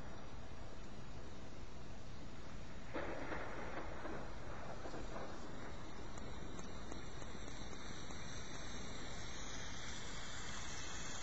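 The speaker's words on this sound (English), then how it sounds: "You can hear the rain." Storm rain played back from the iChillout iPhone app: a steady, dense hiss of falling rain that runs unbroken throughout at low, even volume, with no voices.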